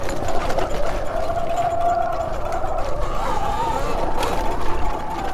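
An electric dirt bike motor whines steadily while riding, a thin, wavering electric hum under wind rush and rustling, rising in pitch near the end.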